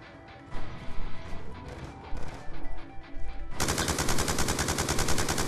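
Rapid machine-gun fire from a Black Ops 2 multiplayer match: scattered shots and impacts give way to a loud, continuous burst that runs to the end, with no speech.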